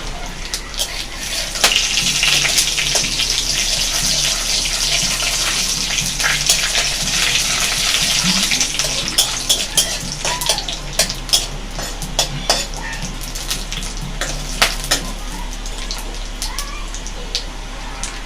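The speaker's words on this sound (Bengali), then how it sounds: "আমি এবারে ফোড়নে দেব জিরে, তেজপাতা, শুকনো লঙ্কা, লবঙ্গ," Whole cumin, bay leaf, dried red chilli, cloves, cardamom and cinnamon temper in hot oil, giving a close, continuous hissing sizzle scattered with sharp crackles and pops.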